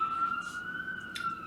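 A steady, fairly faint siren wail holding a high tone, coming from a distance with no talking over it.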